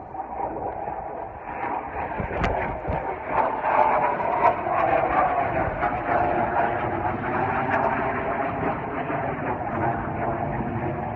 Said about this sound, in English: I just hear a fighter jet somewhere